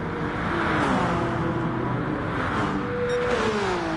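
A race car in a racing game powers out of a hairpin at Autodromo Lago Maggiore West II during an endurance race, the engine droning and climbing steadily in pitch, close and continuous.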